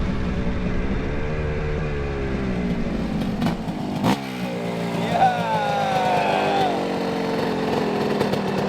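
A 500cc two-stroke motorcycle races past with a high, rising engine whine that peaks and then fades, as a commentator talks over it at a race finish line.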